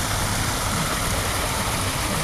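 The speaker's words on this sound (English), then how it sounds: "This is a small little waterfall we have here." Small waterfall in a restored cove park with plants growing around it, giving a steady, continuous broadband rush of falling water that stays close and even throughout with no voices.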